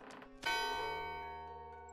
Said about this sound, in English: I rang the helter-skelter bell.